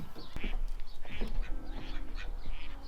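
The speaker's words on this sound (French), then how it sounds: "Ça aime le croissant les canards?" Several ducks on a lake quack in short overlapping bursts, fairly close, against a steady outdoor background.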